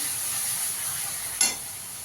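Masala with green chillies and chilli powder sautés in a pan for masala chicken, giving a steady close sizzle broken by one brief scrape of the spoon.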